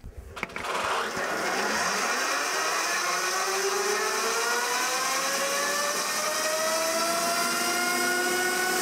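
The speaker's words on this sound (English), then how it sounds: "So we're going to gently ease the bike up to about 65 miles an hour" A Zero electric motorbike accelerates toward about 65 mph under load, a steady rising electric whine with climbing tonal sweeps that holds loud and continuous after a brief start.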